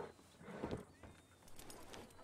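Hooves of a horse, a mare, clip-clopping in a ranch roleplay video game, a few soft steps over a faint background murmur.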